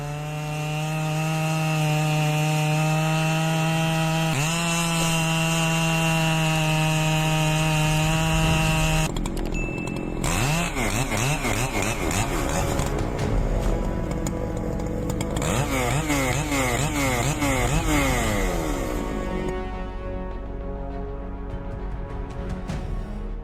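A Husqvarna 3120 XP chainsaw with a 118.8 cc engine and a guide bar over 40 inches cutting through huge tree trunks, loud and close, idling with a steady drone before revving hard into a long, straining cut.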